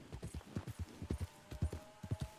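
Horse hooves clip-clop at a steady walking rhythm in the Red Dead Redemption 2 game world, moderately quiet and alone with a faint tonal hum behind.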